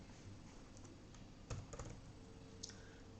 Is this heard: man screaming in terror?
no